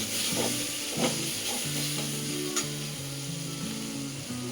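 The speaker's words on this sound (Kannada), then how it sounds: "ಆಮೇಲೆ ಟೊಮೆಟೊ, ಸ್ವಲ್ಪ ಹುರ್ಕೊಳ್ಳಿ ಟೊಮೆಟೊನ." Tomatoes fry in a pan for a paneer gravy, giving a steady close sizzle and hiss with occasional stirring scrapes, under a low tonal background hum.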